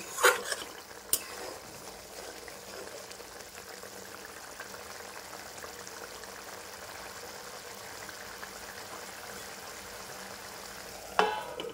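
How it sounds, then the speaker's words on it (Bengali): Eggplant curry gravy with garam masala simmers and sizzles steadily in a pan while being stirred gently, with a clatter of the utensil at the start and near the end, and no talking. "একটু নাড়িয়ে দেব যাতে গরম মশলার গন্ধটা প্রবেশ করে ভালো করে ঝোলের মধ্যে। হালকা হাতে নাড়াতে হবে।"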